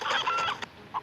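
A rooster clucks close by in a brief, throaty burst, then gives one more short cluck after a pause.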